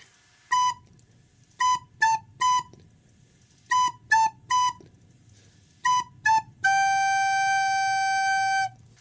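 Song played on a recorder, clear piping notes in short staccato groups of two and three with gaps between, ending in one long held note.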